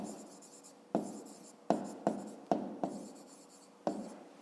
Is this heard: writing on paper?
yes